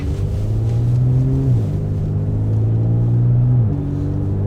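A deep, droning exhaust from a Porsche Macan Turbo with an MBRP 2.5-inch axle-back exhaust at highway speed, a steady loud rumble with a low tone that dips and rises as the engine shifts.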